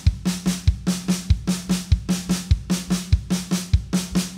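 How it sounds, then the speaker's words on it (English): Drum kit fill repeating a kick, right hand, left hand triplet pattern, deep kick thumps leading each group of three followed by two lighter drum strokes, steady and close with no voices. "the second half of this drum fill is just going to be kick right left"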